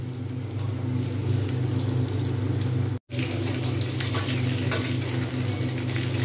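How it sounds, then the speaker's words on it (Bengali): Chicken pakoras deep-frying slowly in hot oil, a steady dense sizzle with a low hum beneath, continuous and close apart from a momentary cut near the middle. "ধীরে ধীরে ভাজা হচ্ছে, যাতে ভেতরটা ভালোভাবে কুক হয়"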